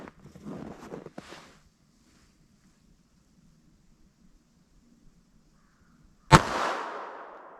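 A single sharp .32 ACP pocket pistol shot firing a 71 grain solid copper round, a sudden loud crack with a decaying tail, preceded by faint handling noises and near silence.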